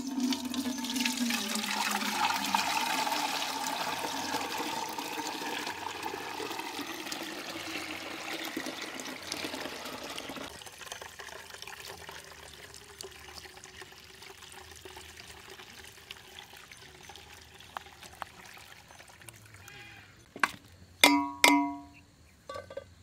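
Wheat grains are washed and swished in water for making kurdya, a sloshing, pouring wash that runs steadily for about ten seconds, then thins to quieter trickling, with a few sharp knocks near the end.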